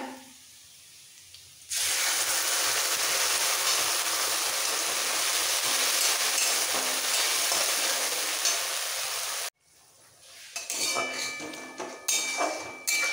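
Spinach paste hitting onions already fried deep red in hot oil for green spinach rice, a loud sustained sizzle that bursts in, holds steady for several seconds, then cuts off and returns as softer crackling and stirring.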